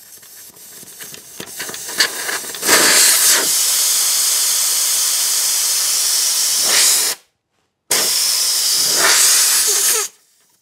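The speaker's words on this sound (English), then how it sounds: "my personal favorite is just remove the valve stem altogether" Air rushes out of a tire through the open valve once the valve stem core is removed. A loud, steady hiss runs close for several seconds, breaks off briefly, then resumes before stopping, with faint clicks at the start.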